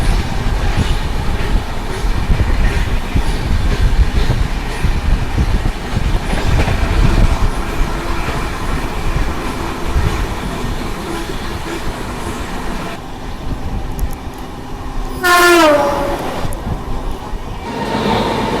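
A Jalandhar–New Delhi Intercity Express train rumbles past loudly and steadily, its wheels clattering over the rails, before a sharp descending squeal or horn-like whine cuts through near the end.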